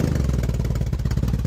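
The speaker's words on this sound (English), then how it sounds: "So what better way to start a segment off than with the sound of a motorcycle?" Close, loud rumble of a BMW motorcycle engine running with a rapid, throbbing low pulse, heard alone without any talk.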